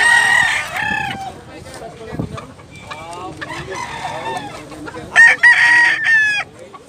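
Roosters at a cockfighting-bird market in Cebu crow loudly and repeatedly close by, with clucking and scattered fowl calls in between and some speech underneath.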